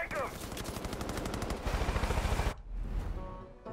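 Rapid automatic gunfire in the Far Cry 5 video game, fast rhythmic bursts of shots close by that cut off abruptly, followed by quieter scattered game sounds.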